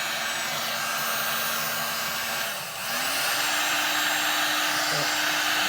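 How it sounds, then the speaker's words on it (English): A heat gun blows on resin in a loud steady whoosh with a constant hum, briefly dipping as it is moved or eased off midway, then resuming at full strength. "I've got myself a heat gun"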